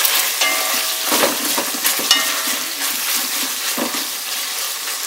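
Bacon fries with a steady, loud sizzle in a pan as it is stirred, the crackling hiss continuous with occasional scraping movements throughout.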